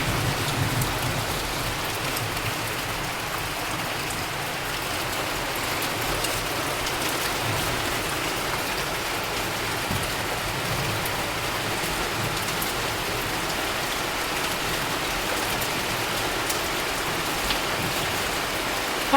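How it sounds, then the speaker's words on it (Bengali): Heavy rain pours down during a storm, a dense, steady hiss of drops beating on surfaces that holds evenly for the whole stretch with no voices. "আমার বৃষ্টির আওয়াজটা শুনতে দারুণ লাগে।"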